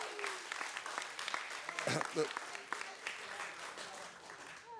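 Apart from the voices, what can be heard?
audience applause at a debate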